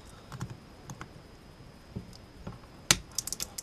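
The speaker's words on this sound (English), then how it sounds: "See if we can cut this guy." A cutter snips through a FLIR Systems military cable, giving one sharp, close crack near the end, followed by a few small clicks and taps over a quiet, handled background.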